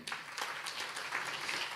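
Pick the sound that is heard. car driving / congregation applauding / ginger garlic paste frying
congregation applauding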